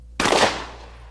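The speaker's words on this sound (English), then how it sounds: "Here's what happens when you fire a rifled slug at 50 yards." A single sharp, loud report from a shotgun firing a rifled slug at a target 50 yards away, an abrupt blast with a short decaying tail outdoors.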